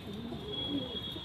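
Soft, low coos of Devbandi pigeons in Kiratpur repeat over a faint steady background hiss, fairly quiet and close.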